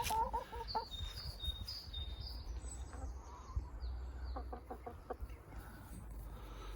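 Several hens cluck and softly chatter inside a large backyard coop, fairly close and moderately loud, with a steady low background and a few brief higher calls scattered through.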